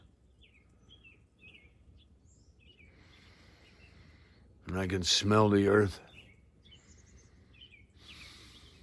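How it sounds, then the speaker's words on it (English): Faint, scattered bird chirps in quiet outdoor ambience near the ocean, with a brief stretch of close talking in the middle. "I can hear a bird."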